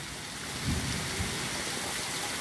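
Steady rain falls during a stormy day while a low rumble of thunder rolls through briefly, faint and distant beneath the continuous hiss of the downpour.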